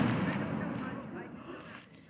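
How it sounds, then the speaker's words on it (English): Fireworks bursting at night, a dense rumble of booming and crackling explosions filling the scene continuously, with voices talking over the bangs. "Yo, fireworks are going off."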